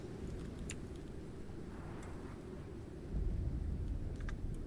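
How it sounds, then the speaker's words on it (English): Stormy weather in the survival game Icarus, with a steady low rumble of wind and rain that swells into a deeper thunder roll near the end, no voices. "Sounds very stormy out there."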